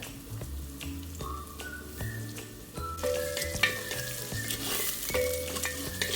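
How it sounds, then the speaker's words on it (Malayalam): Coconut pieces with salt roasting and sizzling in a pan for a white chickpea curry, a close, steady frying crackle that grows louder halfway through, with stirring scrapes and a faint tonal background underneath. "അപ്പം തേങ്ങയൊക്കെ ഒന്ന് ചെറുതായിട്ടൊന്ന് മൂത്ത് വരുന്നുണ്ടേ"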